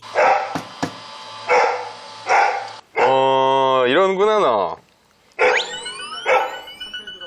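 A dog that chases off guests at a bookshop barks repeatedly and loudly at a visitor, sharp close barks interspersed with drawn-out whining yelps, while people talk over it.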